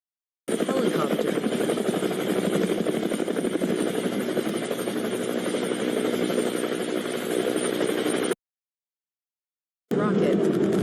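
Helicopter rotor and engine drone, loud and steady, cutting out briefly to silence before starting up again.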